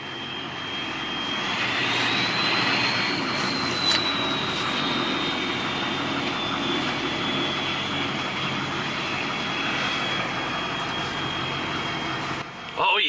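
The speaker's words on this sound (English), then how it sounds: "I'm just gonna sit here and rev this thing all day." A Ford F-250 with a 6.0 Powerstroke diesel engine holds a loud, sustained high rev with a whining turbo tone that rises slightly and then stays level, close by, before dropping off at the end.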